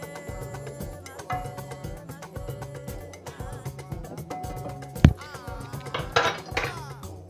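Carrots and green beans stirred in a cooking pot, with a spoon knocking and scraping against the metal in repeated close clinks and a sharp louder clank near the end.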